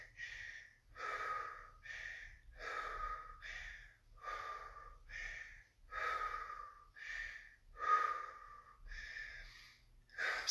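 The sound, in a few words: heavy mouth breathing during side plank exercise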